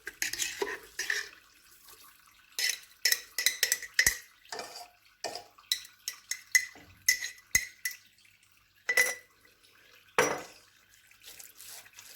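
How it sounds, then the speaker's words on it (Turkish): A knife scoops and scrapes the soft flesh out of oven-baked eggplant for a kebab, giving irregular short scraping and clinking strokes against the dish with quiet pauses between, close and fairly faint. "Ben bıçak yardımıyla çıkarıyorum"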